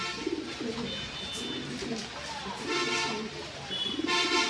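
Black Lahori fancy pigeons at a pigeon farm coo repeatedly in soft, low rolling calls, heard close by under someone talking.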